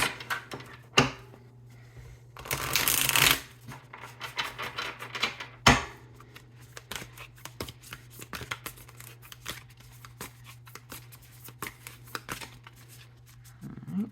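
Tarot cards being shuffled and handled close by, with a couple of louder riffling bursts among quieter scattered flicks and taps, under a low steady hum.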